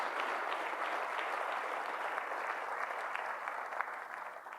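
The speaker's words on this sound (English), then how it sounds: "if all of you would give a big round of applause to not just the professor, but also NCSC" Sustained audience applause at a cyber risk management conference, a steady dense wash of clapping from a large crowd that holds evenly throughout without any talk.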